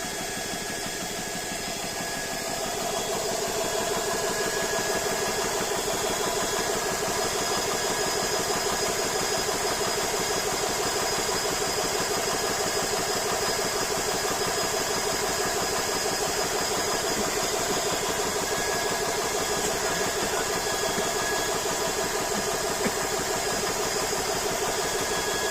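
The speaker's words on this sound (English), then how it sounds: "the compressor's finished pumping in. It's on the automatic cut-off." An air compressor starts up and runs, then drones loudly and steadily nearby for over twenty seconds, a constant mechanical hum with no voices.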